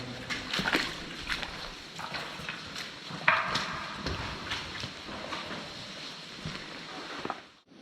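Irregular splashes and sloshing as someone wades through water in a flooded slate mine deep underground, with scattered louder splashes against a murky, echoing background.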